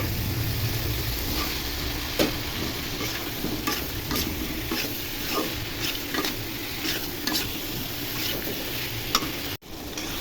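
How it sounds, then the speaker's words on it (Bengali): Pointed gourd and potato pieces sautéed in a spice paste for a pabda fish curry, with steady close sizzling and scraping stirs of a spatula against the pan that repeat throughout, and no talking. "এখন পটল আলু দিয়ে কষিয়ে নিব।"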